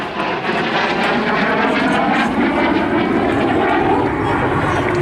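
A SAAB J-29 Tunnan, a 1950s Swedish turbojet fighter, roars past at an airshow with a loud, steady, broadband jet rush that holds strong for the whole stretch.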